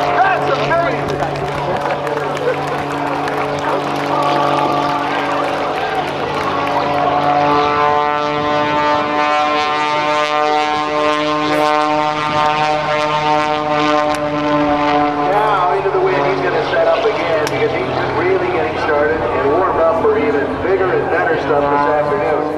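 A 400-horsepower aerobatic propeller plane flown by Jason Newburg at the NAS Oceana airshow roars overhead, its engine pitch rising and falling as it powers through a dive. An announcer talks over a crowd throughout.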